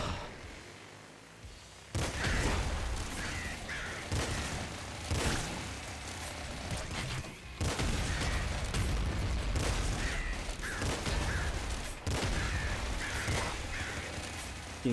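Bursts of heavy shotgun fire from the big shotgun in the roguelike game Nuclear Throne, loud and repeated in rough rhythmic blasts over a busy game soundscape.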